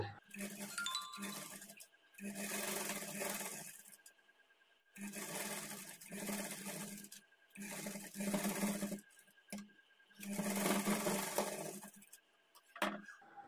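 Sewing machine running along a folded blouse edge in repeated bursts of rapid whirring stitching, each a second or two long with brief pauses between, close and steady, with no voices over the machine.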